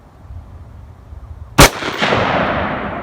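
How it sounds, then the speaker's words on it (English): A single sharp rifle shot from an AR chambered in 223 Wylde cracks out at an outdoor range after a quiet lead-in, followed by a long rolling echo that fades slowly. "we're going to shoot for group here"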